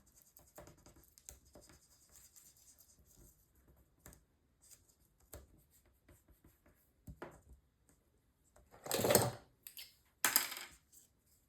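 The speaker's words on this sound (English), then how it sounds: "use my bone folder to burnish it down" Soft scratching and rubbing of a bone folder burnishing a sticker down onto paper, with light taps and small handling noises building to two louder rubbing bursts near the end, close and quiet, with no speech.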